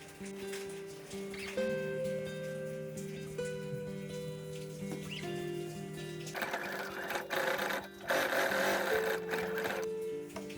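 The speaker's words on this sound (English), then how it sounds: "Sew the cuff into a loop." A sewing machine stitches a sleeve cuff into a loop, its steady mechanical whir running almost without pause, with small shifts in pitch and a brief change in texture near the end.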